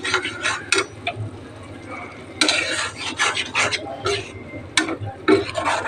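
Dry green peas tip into a pan and get stirred with a metal spoon, giving scraping, rattling strokes in irregular bursts at close range, loud and continuous.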